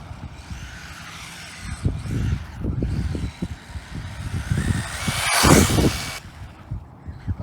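An RC car speeds off and drifts across the ground, its electric motor whining and rising to a loud peak before cutting out, with rumbling tire noise throughout.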